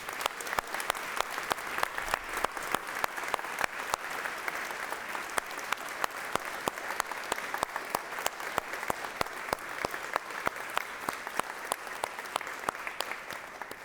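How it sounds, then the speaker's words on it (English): A large audience at a university campus address claps steadily in welcome for new faculty, with dense, sustained applause and sharp individual claps throughout, heard alone without talk. "so that we all can welcome you with a round of applause"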